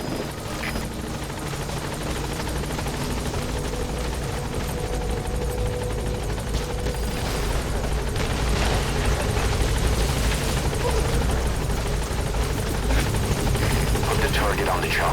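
The Pequod helicopter from Metal Gear Solid 5 sets down at a landing zone, its heavy rotor thumping and turbine whine filling the scene loudly and steadily, with radio chatter and speech over it.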